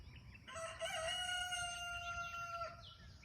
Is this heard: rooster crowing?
yes